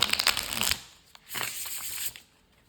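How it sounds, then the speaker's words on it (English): A tarot card deck is shuffled by hand in two close, crisp bursts of riffling and papery rustle, separated by a short pause. "I'm gonna shuffle this deck"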